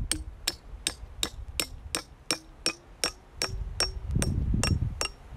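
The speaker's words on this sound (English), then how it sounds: "as we hammer it in, the blade or shank length, as it gets shorter, the tone of the metal gets higher" A steel piton is hammered into rock: about a dozen sharp, evenly spaced metallic strikes ring out close by, their ringing pitch rising as the blade drives deeper, with some low rumble of handling late on.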